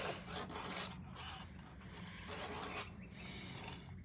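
A metal file rasps across a chainsaw chain's cutters in a few short, repeated strokes, close and fairly quiet, with no talking.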